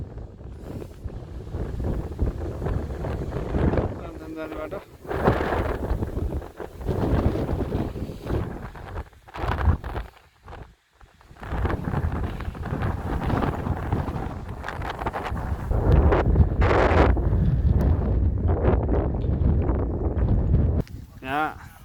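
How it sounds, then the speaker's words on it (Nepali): Strong wind buffets the microphone in gusty, roaring waves outdoors near Narayanthan temple at Bethanchowk, with occasional speech partly buried beneath the rumble. "सिरिरी बतास चल्यो ल"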